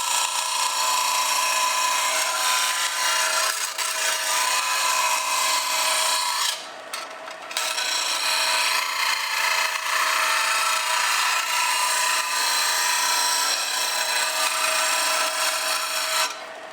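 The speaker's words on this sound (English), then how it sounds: "I'm going to take it off and round the corners and sand it down" Rasping power sanding on a wooden Tacoma truck bed stiffener as corners are rounded, a steady loud abrasive whine running almost continuously with one brief pause, no talking.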